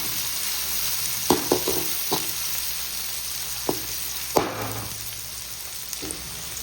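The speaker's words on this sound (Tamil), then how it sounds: "பொடி பண்ண சின்ன வெங்காயம் 250 கிராம், வெங்காயம் நல்லா செவர வதங்கணும்." Finely chopped small onions, 250 grams, sizzling steadily in a pan for a masala crab fry, a constant frying hiss with occasional sharp pops and utensil knocks, no talking.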